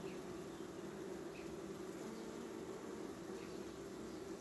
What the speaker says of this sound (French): C'est pas des abeilles trop agressives ni rien.